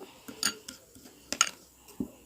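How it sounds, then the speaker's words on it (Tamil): A frying pan is set on a stove with a few sharp metallic clanks and clatters, close and separated by quiet gaps, with no voices. "ஸ்டவ்வில் பேன் வச்சுக்கிட்டோம்"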